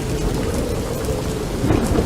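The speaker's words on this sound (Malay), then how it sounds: "cuaca berubah menjadi kelam dan guruh mula kedengaran" Heavy rain pours steadily while low thunder rumbles throughout, a dense, loud and close storm with no voices.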